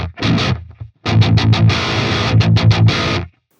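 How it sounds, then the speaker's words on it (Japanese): Electric guitar through a Neural DSP Fortin Nameless amp with amp gain lowered and the overdrive pedal switched off, playing loud, tight distorted chugs in rhythmic bursts with short gaps, ending abruptly. "こちらはオーバードライブでアンプの歪みを 下げた状態でオンオフ聞いてみましょう。"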